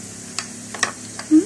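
A utensil stirs melting food in a pan, giving a few soft, faint scrapes and ticks over a low background hum.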